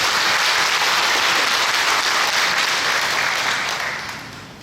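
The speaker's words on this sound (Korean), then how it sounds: "하나님께 영광의 박수 한번 같이 하겠습니다" Church congregation clapping together, a dense steady wash of applause from many hands filling the room, holding strong before tapering off at the end.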